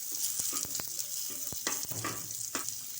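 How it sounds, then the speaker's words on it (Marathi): Garlic coated in masala fries with chickpeas in a pan until crispy, giving a steady close sizzle broken by several sharp scrapes and taps of a spatula against the metal. "हा सगळा लसूण आता फ्राय करून घ्यायचं चांगलं क्रिस्पी करायचं एकदम"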